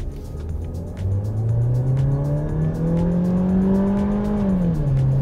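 A Seat Arona with a 6-speed Tiptronic automatic accelerates hard in Sport mode, its engine droning steadily upward in pitch with a brief dip at a gear change, loud and close from inside the cabin.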